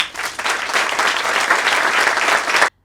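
An audience at a Maison Stéphane Fallu interview event breaks into dense, steady applause that holds at a fairly loud level for under three seconds, then cuts off abruptly.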